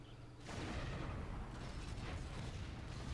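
The Bertha artillery gun in the Toy Soldiers war game fires a loud, sustained booming blast that kicks in abruptly after a short, quieter lead-in and then rumbles on with dense low-end noise.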